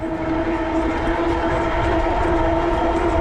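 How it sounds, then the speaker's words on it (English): E-bike motor engaging at pedal assist level 4 while riding at about 24 mph, a steady loud hum with tonal whine bands over continuous wind and road rumble. "As you can hear the motor kicking in a little bit there."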